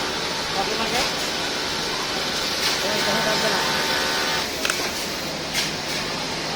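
A flat bed automatic binding machine runs with a steady, loud mechanical whir and faint rhythmic clicks, while a voice talks over it.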